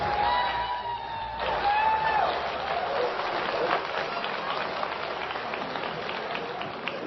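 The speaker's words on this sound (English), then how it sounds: "These guys have to clap." An audience at a Linux conference applauds a chair taking the stage, with steady, moderately distant clapping from a crowd filling the room and a brief rising whoop near the start.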